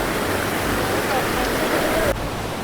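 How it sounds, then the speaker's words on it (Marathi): River water rushes hard under high pressure at a knee-deep crossing near a waterfall, a loud dense roar filling the whole stretch that drops slightly near the end. "ही आपल्याला पहिली लागलेली नदी. खूप प्रेशरने पाणी आहे."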